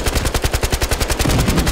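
Machine gun fire in the video game Battlefield Hardline, a loud, rapid unbroken burst of shots in an even rhythm, close up and with no talking.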